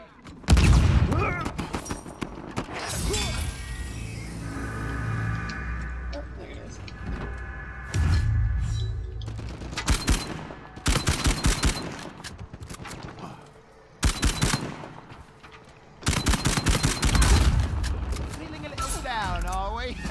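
Handgun shots in Uncharted 4: A Thief's End multiplayer: sharp, separate bursts of gunfire, close and punchy, come in uneven clusters among other game noise while people talk.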